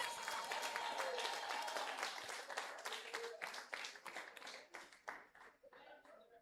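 Audience clapping at a community hero awards ceremony, a steady burst of many hands that thins into separate, distinct claps and trails off toward the end, with faint voices underneath.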